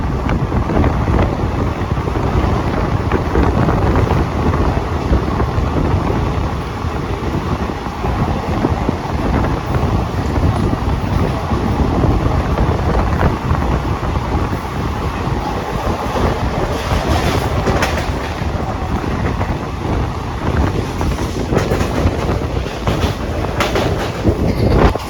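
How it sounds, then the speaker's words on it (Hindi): Rewa–Rajkot superfast express train passing Madan Mahal at about 80–90 km/h in monsoon, with a loud, steady roar of wheels and rails, rushing wind and faint clickety-clack throughout, no talk. "लगभग फुल स्पीड है 80-90 किलोमीटर्स के आसपास, और उसमें ट्रेन मदन महल स्टेशन को स्किप कर रही है।"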